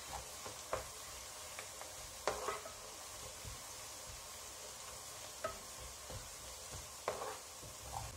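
Ginger frying in a pan over a low flame for a Kerala lemon-date pickle: a faint, steady sizzle broken by occasional sharp stirring clicks and scrapes, with no talk.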